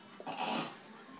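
A single brief, close dog vocalization, a short yelp-like bark with breathy edges, heard alone in a quiet room.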